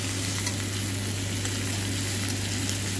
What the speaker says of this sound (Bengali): লাল লাল করে ভেজে নিয়েছি, উল্টে পাল্টে ভেজে নিয়েছি লাল লাল করে